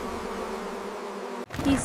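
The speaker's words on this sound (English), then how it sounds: "In it he saw a swarm of bees and some honey" A swarm of bees buzzes in a steady, dense drone that cuts off abruptly, followed by a short burst of brighter noise.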